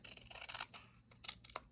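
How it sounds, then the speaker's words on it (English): Scissors snip through a paper envelope in a series of short, crisp cuts with brief pauses between them, close and fairly quiet. "I told you I'm going to have to use my scissors"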